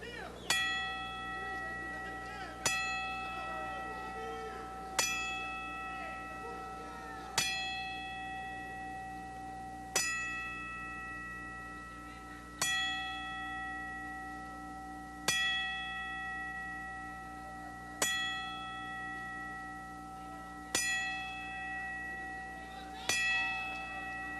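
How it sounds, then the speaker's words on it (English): Boxing ring bell struck ten times in a slow, even tolling for a memorial count at the Great Western Forum, each clear metallic ding ringing out and decaying before the next in a hushed arena. "please remain silent while we toll 10 bells"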